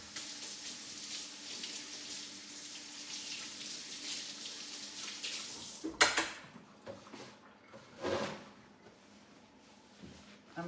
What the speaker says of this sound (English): I'm gonna go ahead and wash my hands first